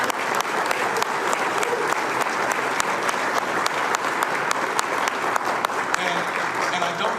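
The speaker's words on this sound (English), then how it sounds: "That is worth a round of applause." Sustained audience applause fills the whole stretch, a dense, even roar of many hands clapping at a public gathering honoring a community member, with no voices above it.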